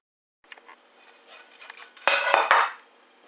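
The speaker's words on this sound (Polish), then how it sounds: "Przykładam zwykły talerz i objeżdżam go nożem" Metal scraping and clinking against a plate, a knife drawn around its rim to cut spelt tortilla dough, with a few louder scrapes near the end, close by with no talk.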